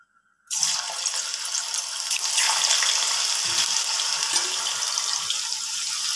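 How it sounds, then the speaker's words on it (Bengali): Plain sliced potatoes with no spice or salt go into hot oil for chips and burst into a loud, steady hiss and bubbling sizzle after a brief silence. The frying continues alone. "তেলের মধ্যে শুধুমাত্রই আলুটা ভেজে নেব"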